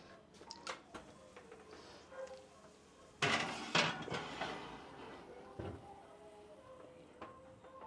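In a home kitchen, a dish goes into the oven with a burst of clattering pans and metal clinks, followed by a lone clink a moment later, all against a quiet background.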